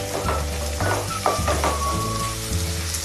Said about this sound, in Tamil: இந்த தடவை நல்லா வதக்கிக்கலாம்